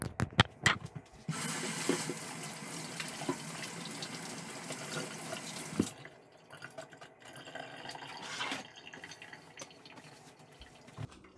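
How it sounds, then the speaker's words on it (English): Tap water runs steadily into a kitchen sink while hands are washed during homemade whole wheat bread making, a loud splashing stream for several seconds that eases into lighter trickles and drips. "I'm gonna go ahead and wash my hands"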